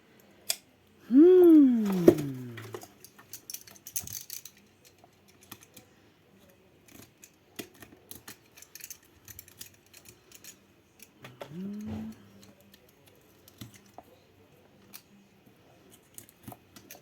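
Scissors snip through stiff paper being trimmed for a scrapbook album, with a few distinct cuts and one longer strained cut near the start and another midway, heard close up between quieter handling sounds.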